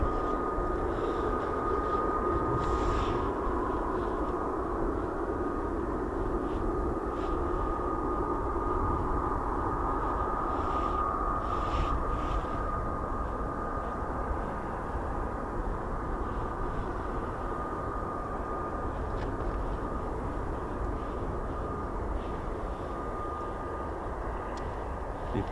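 An F-35B fighter jet starts its engine, giving a continuous mid-distance whine over a dense, steady roar that stays even throughout, alone without talk.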